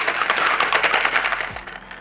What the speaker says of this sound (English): And I'm going to give it a quick shake.